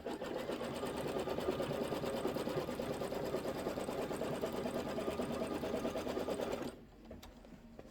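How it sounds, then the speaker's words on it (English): Embroidery sewing machine running a tack down stitch, a steady rapid needle rhythm at close range that cuts out near the end, leaving only faint room noise. "I'm going to do the tack down stitch."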